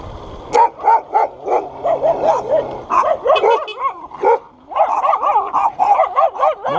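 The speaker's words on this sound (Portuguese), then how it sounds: "Mano, olha o tanto de cachorro" Several dogs bark and yip together in an excited, overlapping chorus, fairly close and loud, with steady barking running through the whole stretch and a few higher whimpering yelps mixed in.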